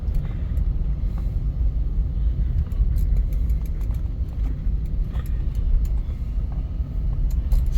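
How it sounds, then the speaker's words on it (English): A Ford Thunderbird Landau with 7000 original miles drives into a car show, producing a steady, loud low rumble of engine and road noise with scattered faint ticks above it. "We're driving into the car show today."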